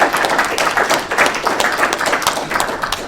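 Dense applause from an audience, many hands clapping steadily and fairly loudly for several seconds with no talking.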